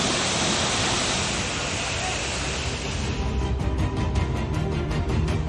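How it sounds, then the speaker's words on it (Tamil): Sudden waterfalls in the Vathal hills after rain, water rushing over rocks in a loud broadband roar that holds steady, then grows more broken and splashy toward the end, with no speech heard. "பாறைகளுக்கு நடுவில் பாய்ந்து செல்லும் இந்த அருவிகளில்"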